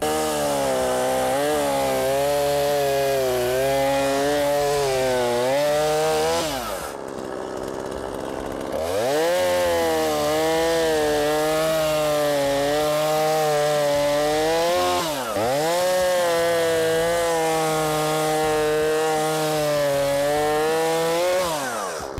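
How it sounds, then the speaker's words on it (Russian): A petrol chainsaw cuts wood, its engine whining and revving in long loaded pulls, dropping briefly to a lower idle midway before bogging into the cut again, loud and close with no talk. "можно идти пилить дерево"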